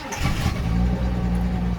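A Ford ZK Fairlane's 4.1 litre six-cylinder engine starts and settles into a steady, loud idle close by, with a low continuous rumble and no talk over it.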